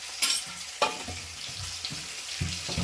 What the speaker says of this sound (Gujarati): હવે બધી વસ્તુને મિક્સ કરી લેવાની